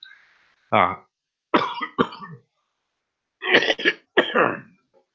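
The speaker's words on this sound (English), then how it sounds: "This cough isn't from smoking. I've got a tickle in my throat." A run of several harsh, close coughs in two clusters, with short silences between, loud and raspy.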